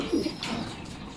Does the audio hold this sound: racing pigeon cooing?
yes